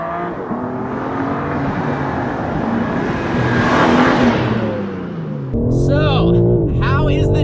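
A 2021 BMW M4 Competition being driven, its engine droning steadily and swelling as it accelerates, with a voice talking over it near the end.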